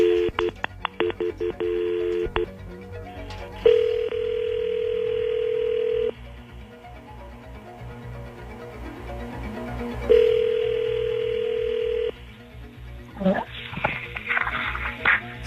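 A landline telephone being dialed, with a rapid run of touch-tone beeps followed by two long steady ringback or dial tones separated by pauses, loud and close, ending in faint voices and clatter.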